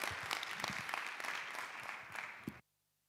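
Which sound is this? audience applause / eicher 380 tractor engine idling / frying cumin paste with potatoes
audience applause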